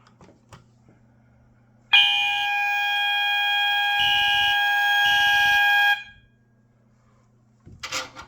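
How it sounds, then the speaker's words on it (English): A smoke detector on a 1990s fire alarm system sounds during a walk test. It gives a loud, steady electronic alarm tone for about four seconds, then cuts off abruptly, with brief handling noises before and after. "So now the system is in walk test, so we'll test the detector."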